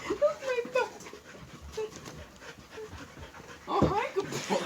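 A dog pants in quick rhythmic breaths, close and fairly loud, with a louder burst near the end and faint voices around it.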